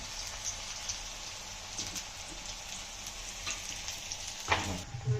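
Potato pieces fry in hot oil in a pan for hakka noodles, a dense, rain-like sizzle with crackles and a few stirring clinks, steady and close with no talking.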